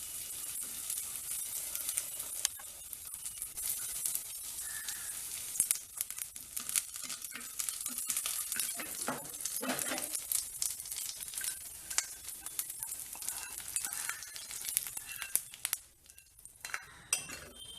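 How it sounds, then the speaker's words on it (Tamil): Onions sauté in a pan for a chutney, giving a steady sizzle and frying hiss with occasional clinks of a utensil stirring against the pan. "வெங்காயம் நல்லா வதங்கணும்."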